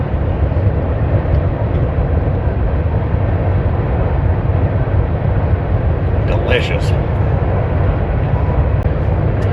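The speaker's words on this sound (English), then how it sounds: "Train's pretty loud." A train passes close by outdoors, a loud, steady rumble and roar that fills the whole stretch, while someone speaks briefly over it.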